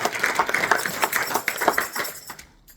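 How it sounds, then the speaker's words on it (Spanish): A church congregation breaks into loud, dense applause, many hands clapping together in a sustained roar that fades out at the very end. "Dale ese fuerte aplauso al Señor"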